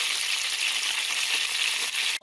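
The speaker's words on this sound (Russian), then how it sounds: "Вот, обжариваем курочку с двух сторон." Chicken pieces frying in a pan for a homemade ragout, a steady close, loud sizzle with crackling that continues throughout before cutting off abruptly.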